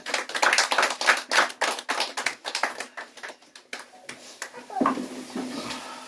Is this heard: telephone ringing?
no